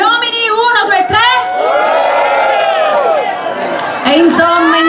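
Men in a town-square concert crowd in Bompensiere shout together on cue, a loud massed roar held for a few seconds after an amplified voice counts in, with talking resuming at the end.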